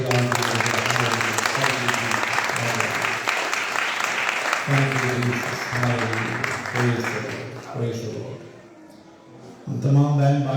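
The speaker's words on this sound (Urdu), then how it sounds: "آئیے زوردار تالیاں خدا کی کلام کے لیے" A church congregation at a Christmas service breaks into loud, sustained applause, dense clapping that swells and fades for several seconds, with a voice talking over it near the start and again at the end.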